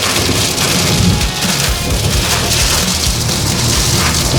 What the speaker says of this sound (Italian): come avete visto piove, anzi strapiove. Sentite?